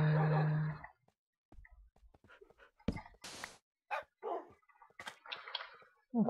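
Dogs bark and yip in a survival video game, a cluster of short barks and whimpers scattered across the clip at moderate level.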